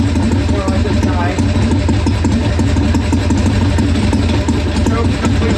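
A 1981 Harley-Davidson Ironhead XLH Sportster, with its choke fully off, idles at close range with a steady, loud, throbbing engine rumble and a voice talking over it.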